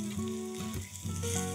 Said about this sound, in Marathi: तर एक साधारण 4 ते 5 मिनिटं तेलावर भेंडी छान परतून घेतली.